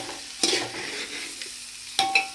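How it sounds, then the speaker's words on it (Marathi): Spoon scraping and stirring through a vegetable biryani mixture in a metal cooking pot over a soft sizzle, with two or three sharp clinks against the rim, close and alone. "मिक्स करून घ्यायचं आपल्याला चांगलं."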